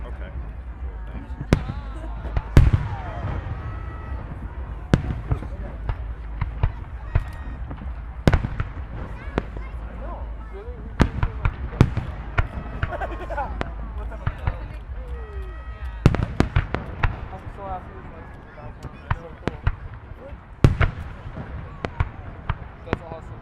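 Canada Day fireworks display in Edmonton, with repeated sharp bangs and crackling bursts spread across the sky, some close and loud, over a steady crowd murmur with people talking throughout.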